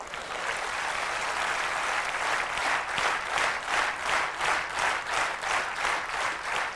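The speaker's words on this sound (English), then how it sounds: "For this you can clap, yeah." An induction-program audience claps steadily for several seconds, a dense, fairly loud wash of applause that swells into a rhythmic, pulsing pattern toward the end, with no talking over it.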